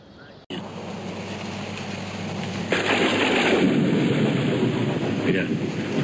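Rain pours down in a film scene on a rural farm setting, a dense hiss that jumps louder partway through, with voices speaking over it.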